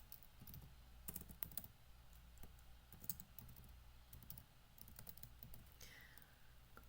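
Typing on a computer keyboard, with close, quiet clusters of key clicks in irregular bursts and short pauses between them, and no one speaking.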